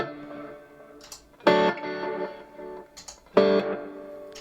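Guitar notes run through a Wampler Terraform modulation pedal into an Empress Echosystem stereo delay, two bright picked bursts each trailing into repeating echoes that decay between strikes.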